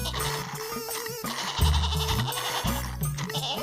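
A goat bleats repeatedly as it is milked, its hind legs tied, the calls loud and close under lively background music.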